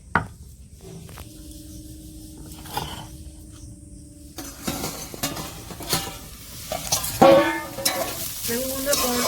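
Bamboo shoots with ginger, garlic and cumin paste sizzle and crackle in a hot pan, with stirring scrapes and clatter growing louder toward the end.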